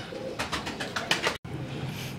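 Domestic pigeons at a Kasur breeder's loft, including red-eyed birds, coo and rustle close by in a run of repeated soft bursts, broken by one brief silent gap.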